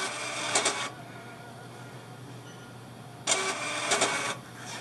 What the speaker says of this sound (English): you can hear it printing off